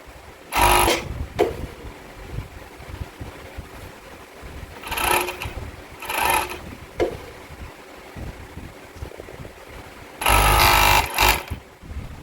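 Bursts of a sewing machine stitching boxer brief fabric, three or four short runs of steady whirring separated by quieter pauses with faint handling noise, close and fairly loud.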